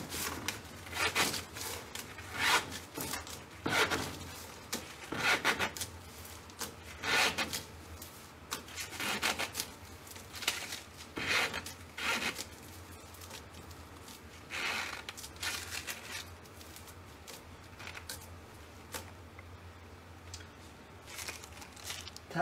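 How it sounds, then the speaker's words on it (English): A thin PVA lamination bag is stretched over a positive model for a prosthetic socket, giving close, repeated rubbing, squeaking and crinkling strokes in an uneven rhythm with no voices. "Prepare a lamination bag as you normally would and stretch it over the positive model."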